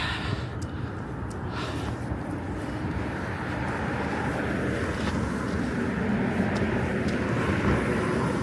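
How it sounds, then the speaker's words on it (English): A passenger jet passes over a frigid Midtown Manhattan street on an early winter morning, a low, steady roar that slowly swells amid distant city noise. "Look at that plane."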